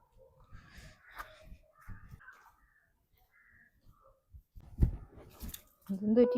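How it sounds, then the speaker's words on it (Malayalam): A few crow caws ring out in the background, scattered and fairly faint, while people talk nearby. "കാക്ക വിളിക്കുന്നു"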